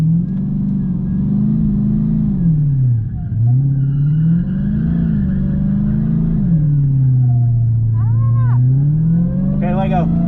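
A drag racing car engine revs steadily under throttle in a snowy setting, with a strong, continuous low drone that rises and dips as the pitch sweeps. Voices speak faintly at times above the loud engine.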